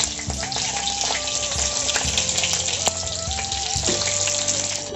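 Potatoes drop into hot oil and fry, a steady close hiss and crackle with a few thin whistling tones running over it and no voices.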